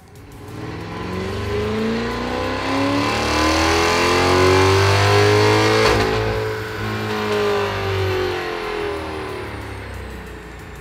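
A Chevrolet C8 Corvette running on E85 fuel with a stock tune drives by, its engine climbing and falling through revs in a loud, close, sustained roar.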